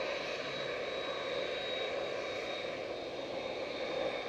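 Airliner G2EE departing Manchester Airport on a flight to Cancun, its jet engines giving a sustained whining roar with a high tonal whine, steady and fairly close, heard alone without talk.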